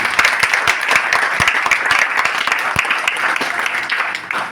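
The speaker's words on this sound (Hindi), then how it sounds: "जोरदार तालियां के लिए" Loud applause from the audience at a network marketing meeting in Sirsa, many hands clapping in a dense, crisp round that tapers slightly toward the end.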